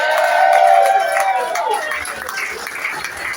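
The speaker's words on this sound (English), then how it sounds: "I want you to give him a massive round of applause" A pub crowd at a Monday night poetry club in the Cavern Pub applauds and cheers a Birkenhead poet, a dense burst of clapping that fades gradually, with a few voices mixed in.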